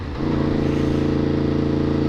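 A Yamaha FZ-10 fitted with a Yoshimura exhaust runs steadily after a brief quieter start, its deep, even engine drone loud and close, with no talking.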